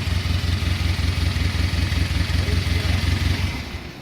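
A 2017 Camaro's 2.0-litre turbo four-cylinder idles roughly with a misfire on a dead cylinder, its low rhythmic pulsing loud and close with a steady uneven beat, fading slightly at the end.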